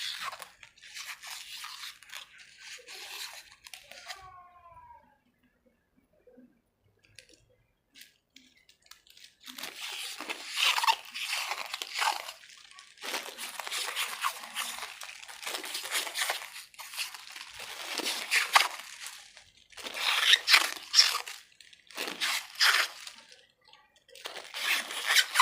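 An air conditioner capacitor being peeled apart by hand, with bursts of crinkling, tearing and crunching foil and film, close and uneven, separated by quiet gaps.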